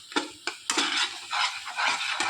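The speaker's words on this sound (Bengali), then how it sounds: "দেখো নেড়ে চেড়ে কতটা শুকিয়ে এনেছি একদম" Pointed gourd mash for potol vorta being stirred and dried in a pan, with several sharp utensil scrapes and knocks over a soft sizzle, close and fairly loud.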